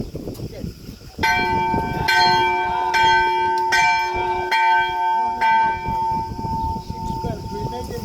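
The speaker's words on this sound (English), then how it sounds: "So we pull like this and release, pull and release, until we ring the bell." A church bell on the Greek island of Crete, rung by pulling and releasing the rope, clangs in a series of loud, ringing strikes whose long tones overlap and sustain, with voices faintly in the background.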